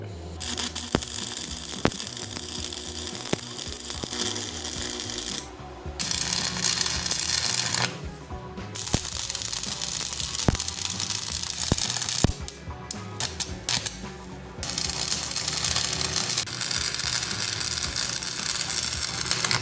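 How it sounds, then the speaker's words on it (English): Pins are welded on an excavator tree shear, a harsh, crackling buzz running in long bursts broken by short pauses, loud and close. "let's go ahead and weld these pins all the way up"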